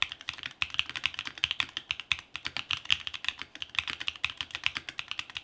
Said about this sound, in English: I literally put the switches in, put the keycaps on, and started typing away.